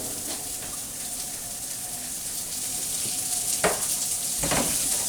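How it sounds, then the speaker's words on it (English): Chopped bacon sizzles and renders in a skillet, a steady close hiss of frying fat with a few brief louder crackles and stirring knocks toward the end. "Right now I've got some bacon rendering here in my skillet."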